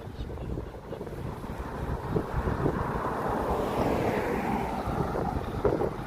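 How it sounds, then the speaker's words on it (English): Wind buffets a microphone outdoors on a walk in Lowestoft, UK, as a constant low rumbling roar that swells slightly in the second half. "A little bit of wind, yes. A lot of blooming wind coming back."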